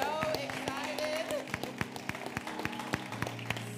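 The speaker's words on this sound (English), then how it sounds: "let's give them all a round of applause" Church congregation applauding at an Easter Sunday service: scattered claps that thin into a few distinct, fairly faint hand claps, with a voice speaking over the start.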